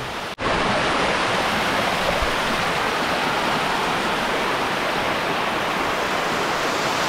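A nameless waterfall, its roar a dense, steady broadband rush that starts abruptly after a brief cut and then holds loud and unchanging throughout, with no voices.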